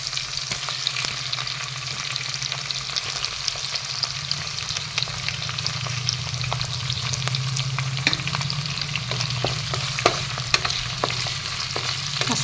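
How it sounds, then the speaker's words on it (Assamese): Fish pieces sizzle and fry in a pan with softened onions for a fish and bottle gourd curry, a steady dense crackle with occasional sharper pops and spatters, close up and alone with no talk. "তাতে এতিয়া মাছখিনি দি ল'ম।"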